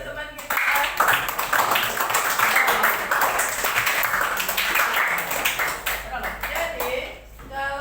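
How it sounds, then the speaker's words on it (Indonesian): A classroom full of people clapping steadily for a classmate for several seconds, dense and close, with some voices mixed in before it tapers off near the end. "tepuk tangan untuk teman kita."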